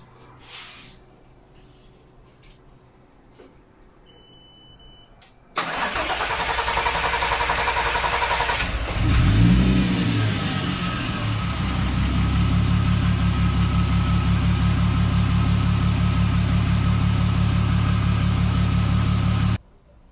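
VW Golf R32 engine cranking and catching after a quiet stretch, a short rev flare, then settling into a steady, loud idle close by before cutting off abruptly.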